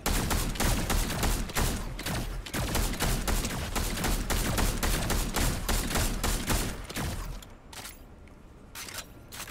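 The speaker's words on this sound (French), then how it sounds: "Ça tire partout." Gunfire rattles nonstop in a Fortnite match, dense rapid bursts of shots close and loud, easing into sparser, quieter shots over the last couple of seconds.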